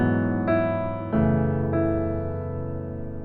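Piano plays the melodic line from My God is Awesome over the 4 chord in a jazz-chord arrangement: three sustained notes struck one after another and left to ring out, close and clean.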